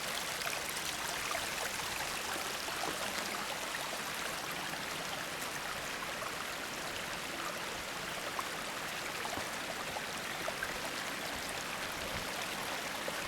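Water runs off a rocky hiking trail into the woods as a steady, even rush of a small stream. It is continuous and moderately close, with no voices.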